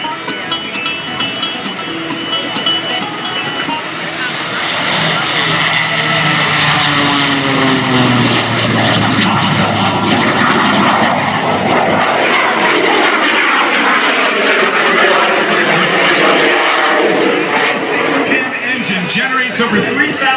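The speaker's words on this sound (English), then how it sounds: "Listen to the sound of that radial piston engine." A jet-assisted Waco biplane with a radial piston engine makes an air show flyby across a shoreline at the 2022 Blue Angels Homecoming Air Show. Its loud, steady propeller drone swells and holds through the whole pass.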